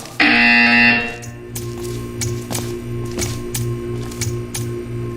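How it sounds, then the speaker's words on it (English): A loud electronic buzzer in the video game Portal 2 blares for about a second, then gives way to quieter ambient hum and a series of soft ticking taps. "When you hear the buzzer, stare at the art."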